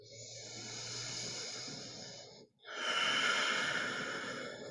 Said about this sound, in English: Take one more cycle of breath. Let it be full.